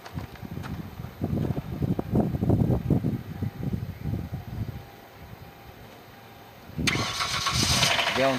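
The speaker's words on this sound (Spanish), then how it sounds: "Vamos a ver si enciende el vehículo." A car engine cranking repeatedly in uneven grinding bursts, then going quiet, then catching with a louder, steadier engine roar near the end, all close by.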